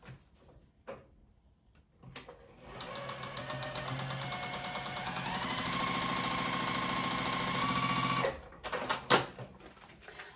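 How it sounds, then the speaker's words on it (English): Domestic sewing machine stitching a fabric strip onto a paper-pieced quilt block, a steady mechanical whirring run of about six seconds that starts after a few light clicks and handling noises and stops abruptly, with a few taps afterward. "Let me stitch this strip on."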